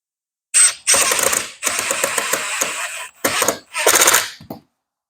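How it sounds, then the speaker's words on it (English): A screw driven into a reclaimed pallet-wood tabletop to fix a table leg, heard as loud, close bursts of ratcheting power-driver clatter in four or five separate runs with short pauses between. "We just hold the leg to the top and just screw it in till it's snug."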